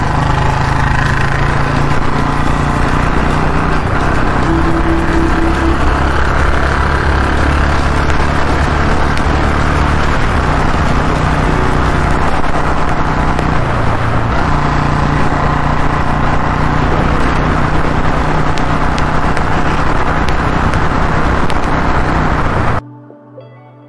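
A Royal Enfield motorcycle runs at high speed, around 115 km/h, across a bumpy bridge. Its engine drones loudly and steadily with wind roar throughout, then cuts off abruptly at the end.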